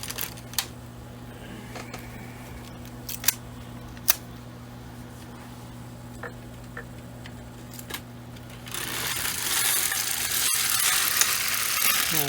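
A midgauge knitting machine knits rows of a Fair Isle cardigan. Scattered mechanical clicks and ticks give way to a sustained, rushing mechanical slide as the carriage sweeps across the needle bed, close and fairly loud.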